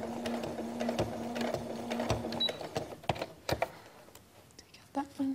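A domestic sewing machine stitching in a zipper, running in short bursts with a steady whirring hum and needle ticks, pausing and restarting, with faint talk and handling noises around it.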